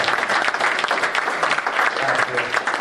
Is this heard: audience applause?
yes